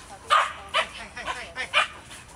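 A dog barks during an agility training session, about five sharp mid-loud barks spaced irregularly over a couple of seconds, with faint background noise.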